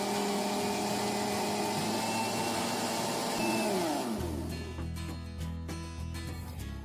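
A blender whirs steadily as it beats flourless, milk-free chocolate cake batter with margarine mixed in. The loud, continuous motor drone shifts pitch and grows rougher partway through, with no talking.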